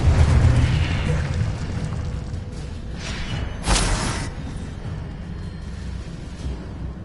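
A Confringo blasting spell bursts in a fantasy wizarding game, a sharp bright explosive pop standing out over a loud ongoing rumble of combat effects.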